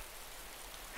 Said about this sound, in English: Is that because it's raining?